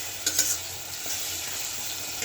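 Potatoes go into spices frying in a pan for a thin katla fish curry with eggplant, giving a steady close hiss of sizzling oil with a couple of stirring clinks at the start.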